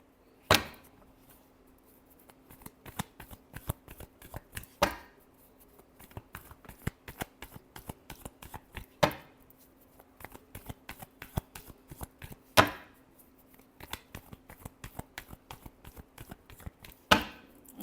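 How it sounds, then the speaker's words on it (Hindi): Playing cards are shuffled over and over during a tarot reading: crisp riffling bursts come every few seconds, with softer card taps and slaps in between. The sound is close and moderately loud, with no talking. "Last shuffle."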